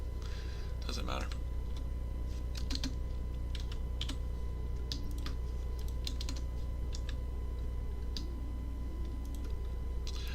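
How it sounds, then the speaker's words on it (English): Rapid, uneven keystrokes tapping on a computer keyboard, close and fairly quiet over a steady low background hum, with brief clusters of clicks throughout. "I'm trying to hit the keys without looking at the keyboard and hitting the key right next to it."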